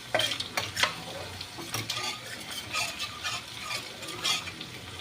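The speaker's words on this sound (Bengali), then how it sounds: "শুকনো লঙ্কা আর পাঁচফোড়ন দিয়ে দিয়েছি তেলের ওপরে।" Dried red chillies and panch phoron sizzle in hot oil, a steady crackling fry broken by scraping stirs and light clinks of a utensil, close and fairly loud with no talking.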